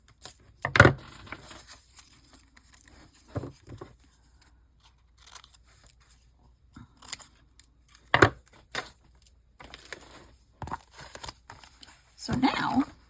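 Scissors trim small paper pieces for a Halloween journal in a few brief, crisp snips and rustles separated by quiet gaps. The cuts land close to the microphone, with a person talking intermittently around them.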